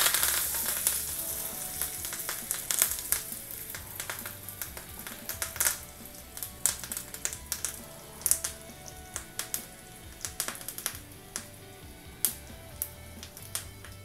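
Dried red chillies and curry leaves crackle in hot tempering oil for lemon rasam, with soft scattered pops and spits over a faint, continuous sizzle.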